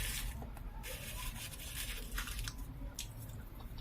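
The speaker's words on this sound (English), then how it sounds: "Yeah, they're so crunchy and the salt is on point" Someone chewing crunchy salt-roasted groundnuts close up, a soft continuous crunching and squishing with brief sharper crackles, fairly quiet, with no talk.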